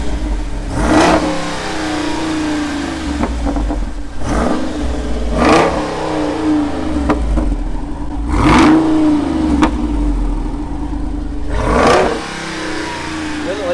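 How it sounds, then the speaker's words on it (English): A Jeep Wrangler Rubicon 392 V8 with its exhaust opened up revs repeatedly in park, about five loud, sharp blips rising and falling with burbling between them, close by and with no talk. "You know my favorite button is that exhaust button. Listen."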